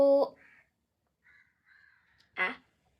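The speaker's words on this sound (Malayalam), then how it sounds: "കാക്കയുടെ സൗണ്ട് ഉണ്ട്." A crow caws a few times: one loud nearby caw at the start, faint distant calls in the middle, and another clear caw toward the end.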